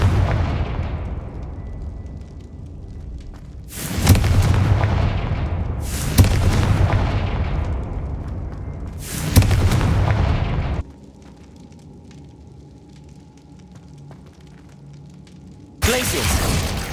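Confringo fire spells blasting in the Hogwarts Legacy video game, heavy booming bursts repeating at intervals of a few seconds, each with a loud crackling tail, with quieter game ambience between blasts.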